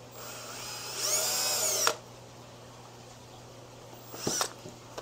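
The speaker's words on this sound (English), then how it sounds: "Now, when you screw them in, they don't split the wood." A power drill drives star-bit trim head screws into plywood during an aquarium build, with one sustained whirring run of about a second, then a short second burst, close and fairly loud, with no talk.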